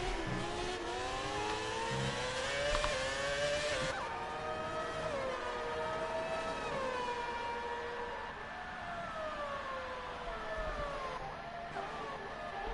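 Renault 2006 F1 race car engines howling in a racing video game at Silverstone, a sustained high-pitched whine with gliding pitch as the cars shift gears and accelerate, steady and loud throughout with no talking.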